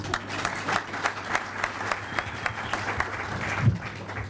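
A comedy show audience in Ethiopia claps in a sustained, moderately distant round of applause with rhythmic peaks, plus faint crowd murmur underneath.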